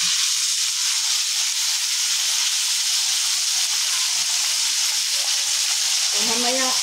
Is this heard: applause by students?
no